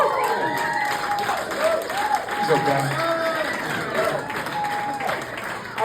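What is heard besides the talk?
audience applause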